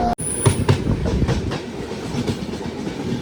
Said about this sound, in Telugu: అపోజిట్ ఇంకో ట్రైన్ వస్తుంది